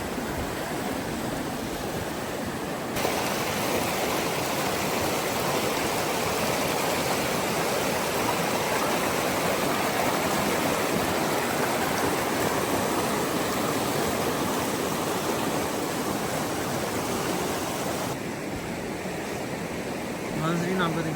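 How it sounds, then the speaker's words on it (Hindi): A stream of water flows from the Kala Chashma spring in Kumrat Valley, Pakistan, after floods, a steady broadband rushing that stays even and close throughout, without audible talk. "ये जो थोड़ा सा पानी आ रहा है ना, ये काले चश्मे का जो उधर से होके आ रहा है"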